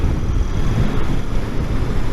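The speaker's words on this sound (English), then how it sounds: "It's a very, very windy day today." Strong, steady wind buffets the microphone on a very windy day while riding a Royal Enfield Interceptor 650 motorcycle with no screen, a loud continuous low roar with no talking.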